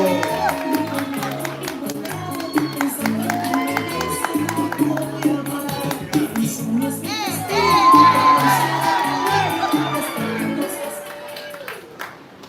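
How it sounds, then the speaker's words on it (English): A live poetry-event crowd claps, whoops and shouts for poet El Chavo Flaco, loud energetic cheering with rhythmic clapping over a throbbing music beat, swelling toward the middle then fading. "Start clapping, start building energy, start making noise for El Chavo"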